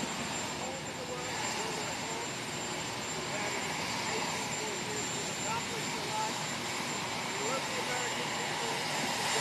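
Presidential helicopter departing the White House South Lawn gives a loud, steady rotor and turbine roar that continues throughout with no pause.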